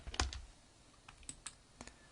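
A few light, quiet keystrokes on a computer keyboard as a short group name is typed, scattered clicks with pauses between them and no talking.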